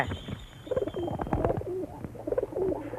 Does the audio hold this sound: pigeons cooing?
yes